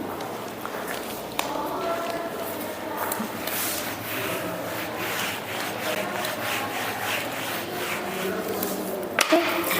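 Writing is rubbed off a board with a steady, continuous scrubbing swish of repeated strokes at close range, running throughout with no speech over it.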